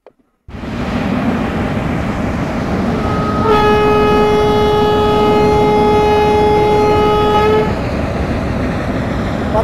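A WAP4 electric locomotive runs in Train Simulator Classic, with a steady loud rumble of rolling stock and a sustained multi-tone horn sounding for several seconds in the middle over the running noise.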